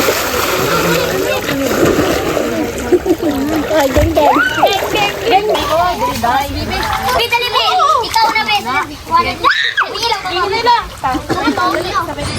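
Children jump and splash into a swimming pool, with loud continuous sloshing and splatters mixed with excited kids' chatter, shouts and laughter throughout.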